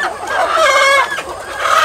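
Free-range chickens cluck loudly and close by, a brief burst of rhythmic fowl calls with no talking.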